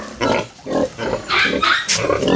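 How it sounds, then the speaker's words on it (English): A pig at a piggery grunting and squealing in repeated loud, close bursts, rough and guttural, with no talking. "I need to get that rope off of that pig."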